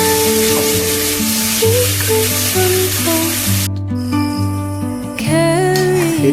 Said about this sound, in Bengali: কড়ার মধ্যে দিয়ে দেওয়া হলো ভাজা পেঁয়াজের সাথে